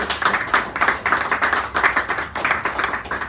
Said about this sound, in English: Give Joffrey a round of applause as he comes up here